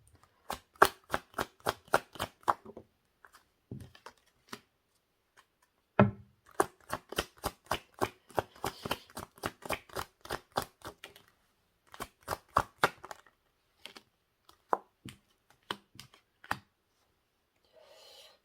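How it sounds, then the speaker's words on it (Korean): Tarot cards being shuffled and drawn, giving repeated rapid bursts of crisp riffling clicks in several runs separated by short quiet gaps, close and fairly soft with no talking. "추가 카드 잠시 뽑고 리딩 드릴게요."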